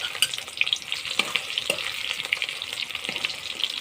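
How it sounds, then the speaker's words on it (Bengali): Whole cumin seeds and dried chilies crackle in hot oil, a close, bright sizzle with frequent sharp pops and spits scattered throughout. "প্রথমে আমি তেলে ফোড়ন দেব, গোটা জিরে, শুকনো লঙ্কা"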